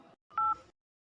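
A telephone number being dialed, with a short keypad tone followed by a longer, clear DTMF beep, close and isolated, then silence.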